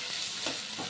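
Finely chopped onion, garlic and ginger fry in hot oil for a Bengali-style achari dal, giving a close, steady, even sizzle that fills the brief moment without any talk.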